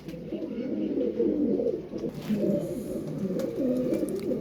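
Domestic pigeons, a Teddy cross among them, coo in soft, repeated low throaty rolls close by, continuing steadily with no talk.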